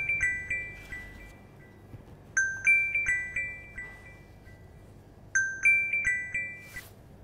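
A telephone ringtone plays in a bakery workshop, a bright repeating melodic chime heard in three distinct bursts with pauses between, moderately loud over a low background hum.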